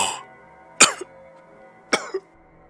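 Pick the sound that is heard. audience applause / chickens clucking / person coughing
person coughing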